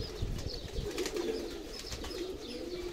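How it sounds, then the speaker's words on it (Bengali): Pigeons in a caged pigeon farm in Saudi Arabia coo continuously in low, murmuring overlapping calls, fairly close, with light scuffs and rustles of birds moving around them and no talking. "এ হলো কবুতর সৌদি আরবে"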